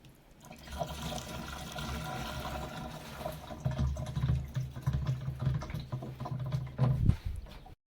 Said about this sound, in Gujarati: પંપમાં જો બાપા અત્યારે દવા નાખી દીધી ને થોડુંક પાણી નાખવાનું છે